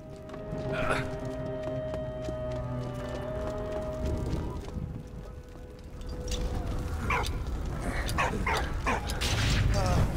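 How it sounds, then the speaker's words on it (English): A dog barks in the World War I video game Valiant Hearts, a few sharp barks rising over steady harmonic game music and clattering effects. "Stop barking. I heard you the first time."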